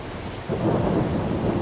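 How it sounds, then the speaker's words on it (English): Steady rain hisses while a low rumble of thunder swells in and rolls on beneath it, on a farm in Farming Simulator 22. "It's raining."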